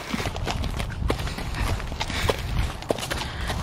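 Irregular hoof clip-clops of a horse moving near its stall, close by and steady, over a dull rumbling background with no talking.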